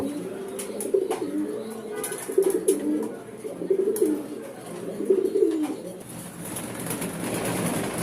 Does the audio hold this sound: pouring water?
no